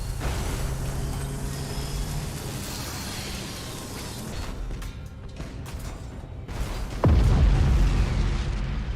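A bomb detonates in the space strategy game Battlefleet Gothic: Armada 2 with a sudden deep boom, after a stretch of rumbling battle ambience and scattered mechanical noises, then a loud sustained roar.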